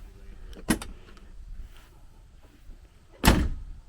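The door of a 2022 Polaris General XP 1000 UTV with scuffed, cracked plastic after a rollover, heard as a sharp close latch clunk, a quiet rattle, and then a louder slam, all nearby with no one talking.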